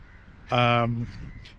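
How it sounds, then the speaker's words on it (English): A house crow gives a single harsh, nasal caw, close and fairly loud over faint outdoor background, followed by a softer distant call. "these crows flying up here are actually house crows"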